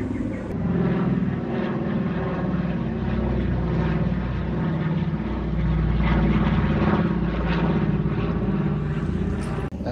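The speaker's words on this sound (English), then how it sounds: "Is that just like a normal plane?" A propeller airplane passes overhead near a working windmill south of Bruges, its steady engine drone filling the whole stretch at an even, fairly loud level without fading away.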